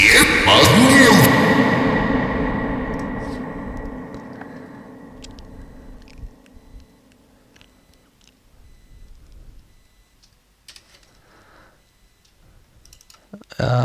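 A loud, smeared sound with a long echoing tail that slowly decays into near silence, followed by faint clicking and a sudden burst at the end.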